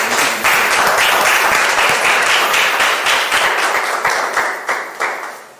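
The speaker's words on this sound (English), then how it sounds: "Let us take a moment to applaud these gentlemen for their hard work." Sustained audience applause at a financial market research awards ceremony, dense and steady clapping throughout that thins slightly toward the end, with no talking over it.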